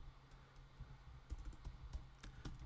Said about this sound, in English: So I'll start typing an action description again.